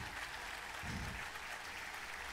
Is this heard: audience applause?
yes